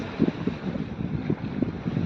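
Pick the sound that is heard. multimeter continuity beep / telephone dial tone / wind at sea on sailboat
wind at sea on sailboat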